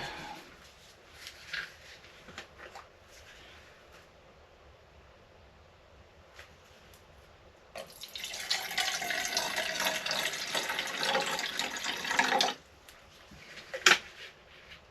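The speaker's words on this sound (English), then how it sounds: "So I will add some water to that." Water runs from a tap into a pot for several seconds, a steady rushing pour amid quiet kitchen clatter and small knocks.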